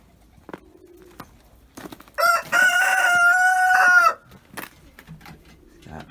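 Chickens in a coop, with a rooster crowing once loud and close in a drawn-out cock-a-doodle-doo, surrounded by faint scattered clucks and rustling.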